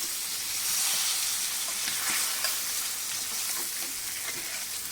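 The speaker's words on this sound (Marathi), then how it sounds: "मंद ते मध्यम आचेवरती आपल्याला हे छान फ्राय करून घ्यायचे" Pomfret fish fries in a pan over low to medium heat, giving a continuous, fairly loud sizzle and hiss with small crackles throughout.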